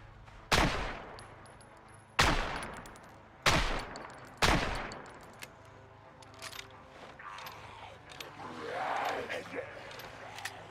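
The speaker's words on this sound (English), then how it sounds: "Why you gotta go shooting guns?" Four sharp, loud gunshots ring out about a second or two apart in the zombie survival game Project Zomboid, followed by quieter game noise and faint voices.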